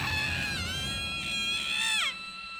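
A nurse character in the Chaos;Head NoAH visual novel lets out a long, high, wavering scream that rises and bends, then cuts off sharply near the end, loud and alone over a faint background.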